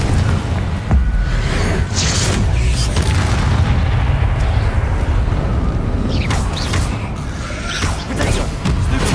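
Confringo spell explosions in the video game Hogwarts Legacy come as repeated loud booming blasts over continuous dense combat noise, with no break in the din.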